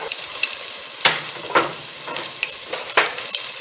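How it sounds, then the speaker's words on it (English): One large onion fries in two tablespoons of extra virgin olive oil in a soup pot, giving a bright, crackling sizzle close up, with a few sharp stirring scrapes recurring every second or so. "I use extra virgin olive oil, and now we're going to add onions"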